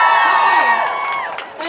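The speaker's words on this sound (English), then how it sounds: "Give them a big round of applause." A crowd at an Extinction Rebellion demonstration in Sheffield cheers and whoops loudly, with shouted voices rising over a continuous wash of noise for the full clip.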